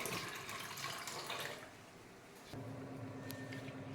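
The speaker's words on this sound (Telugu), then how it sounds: "ఈ విధంగా కడిగి ఒకసారి కడిగి చూపిస్తాను బాగా త్రీ టైమ్స్ కడిగేసి మంచినీళ్ళు వేసుకొని పెట్టుకోవాలి" Urad dal and rice are rinsed in water in a kitchen to make idli batter. Soft sloshing and trickling water runs throughout, quiet and close, with a faint shift in tone midway.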